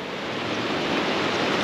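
Sea waves washing onto the beach at Praia Canto do Poá, a steady broadband surf rush with some wind noise, heard alone.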